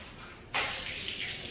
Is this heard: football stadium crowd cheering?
no